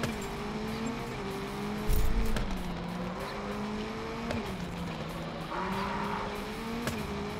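Racing cars in the video game Gravel roar steadily as engines rise and fall through gear shifts, joined by a brief burst of tire squeal and skidding, loud and continuous with no talk.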